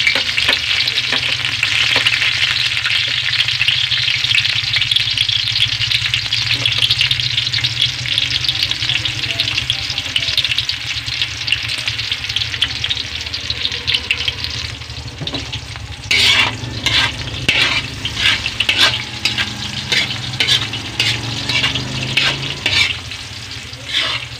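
Onions fry in a pan with a loud, continuous sizzle, and in the second half repeated stirring scrapes and clatter break up the steady frying.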